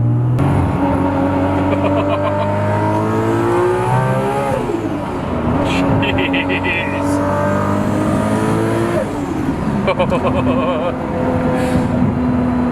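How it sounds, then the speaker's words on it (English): A 2JZ-engined Toyota Supra making about 1100 horsepower pulls hard, its loud, close engine note rising and falling through repeated revs and gear changes, with shifts and brief pops between pulls. "there is nothing like a cleanly pulling 2J like 1100"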